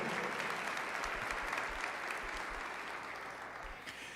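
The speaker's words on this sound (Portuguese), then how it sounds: "Pode aplaudir a palavra do Senhor." A church congregation applauds in a steady, soft wash of clapping that holds evenly for about four seconds, faint and spread out with no voices standing out.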